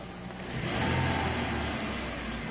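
A car converted to run on LPG revs as the gas pedal is pressed, a close, steady mid-pitched engine drone that swells briefly and then settles, with no voices.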